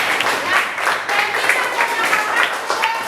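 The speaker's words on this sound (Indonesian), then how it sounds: "kita tepuk tangan untuk Kenzi" A school class applauds a student during a lesson, a sustained round of clapping from a small group of children, fairly close and even, with voices mixed into the clapping.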